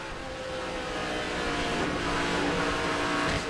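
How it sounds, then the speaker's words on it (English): An ARCA stock car at Talladega lets off the throttle, a steady, fairly distant engine roar with crowd and track noise around it and no voices. "we heard Brian Silas get out of the gas"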